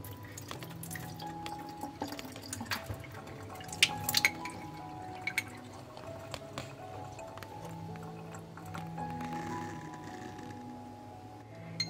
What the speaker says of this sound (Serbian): Procedit ću seme u cediljku.